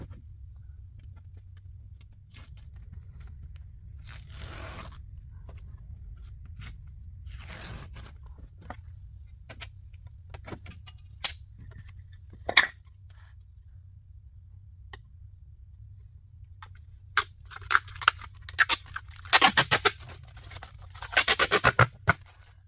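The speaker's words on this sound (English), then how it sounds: "So let's peel the tape off of this" Masking tape being peeled off a painted pinstriping panel: scattered crackly tearing and ripping bursts over a steady low hum, growing denser and louder toward the end.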